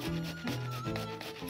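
A tomato grated on a grater, giving close, continuous rasping rubs in quick back-and-forth strokes, with no talk.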